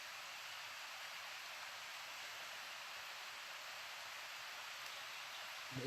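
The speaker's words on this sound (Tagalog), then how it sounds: "Ulan na dito mga tol." Rain falls steadily as a soft, even hiss, faint and continuous for several seconds, with a slight rustle near the end and no voices.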